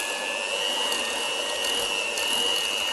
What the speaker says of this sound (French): On vient ensuite mélanger le sucre avec le beurre.